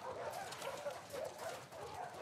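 Dogs bark in The Last of Us Part 2, several rhythmic barks and whimpers in quick succession at moderate distance, fairly loud against background game ambience.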